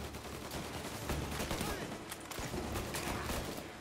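Gunfire in the Mafia Definitive Edition video game, a dense sustained fusillade of shots with sharp bursts throughout, loud and continuous, mixed with game background noise.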